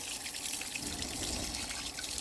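Lokan seashells from a mangrove swamp in Ternate washed in water, a steady close trickle and splash of running and sloshing water throughout, fairly quiet with no voices.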